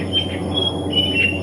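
At dawn beside a mountain, birds give a few short, faint chirps over a low background hum.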